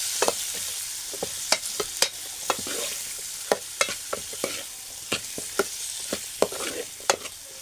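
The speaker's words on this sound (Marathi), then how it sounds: "ढवळून घेतो." Tomatoes fry in a pan for horse gram curry, a soft steady sizzle broken by frequent sharp scrapes and taps as a spoon stirs them.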